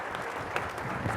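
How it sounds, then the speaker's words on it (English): Audience clapping for volunteers called on stage at a tech conference, a short burst of dense, moderately distant applause with no break. "Have a round of applause for the participants"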